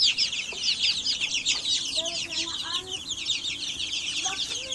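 Twenty-five-day-old chicks, including sex-link and smoke-type birds, cheep constantly in a dense high-pitched chorus close by, with occasional lower clucks mixed in.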